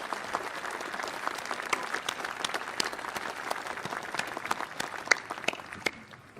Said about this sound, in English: And remain as we applaud.